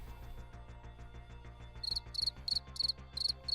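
Cricket chirps pulse in a steady, rhythmic series of short trills, growing louder and more distinct in the second half over a constant low hum, with no speech.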